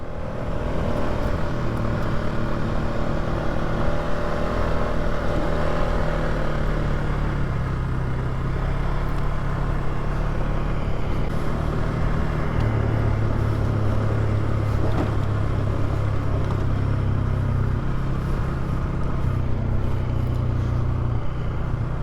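A dirt bike runs along a dirt trail through a series of corners with a continuous mid-distance engine drone that shifts in pitch as it slows and picks up again, with steady wind and road rush and no talk.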